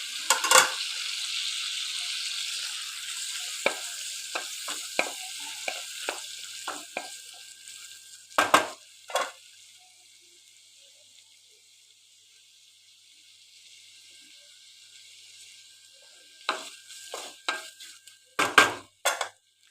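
Tomato pieces fry in a pan with a steady hiss that slowly fades, broken by scattered utensil scrapes and stirring clatter, then louder clanks near the end; no one speaks.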